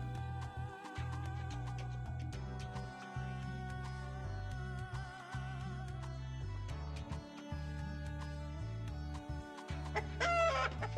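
A chicken in the video game Party Animals clucks repeatedly in quick, uneven bursts over a steady low pulsing game soundtrack, with no talking.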